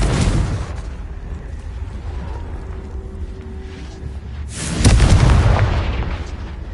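A Confringo explosion spell in Hogwarts Legacy opens with a loud booming burst, fades into a rumbling tail, then a second deep blast erupts near the end, close and heavy.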